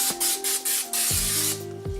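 Cooking oil spray hisses from a can in several short bursts, close and bright, with faint clinks of a pan between sprays.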